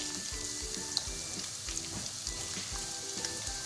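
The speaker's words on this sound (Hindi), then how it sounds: "प्याज को हम फ्राई करेंगे।" Chopped onion sizzles steadily in hot oil with whole cumin seeds and bay leaf, a loud continuous frying hiss with occasional soft stirring knocks and pops, no voices.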